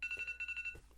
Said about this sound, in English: Oh, that is my alarm.